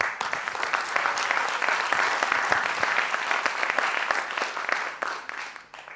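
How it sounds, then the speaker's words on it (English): A festival audience claps warmly, a dense wave of applause that holds steady before thinning and fading out near the end, with no talking. "Please a warm applause for them."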